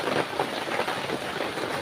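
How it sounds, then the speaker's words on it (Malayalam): Heavy rain pouring down in a steady, dense hiss without a break, close and fairly loud, with no voices. "നല്ല മഴയാണ് മക്കളെ"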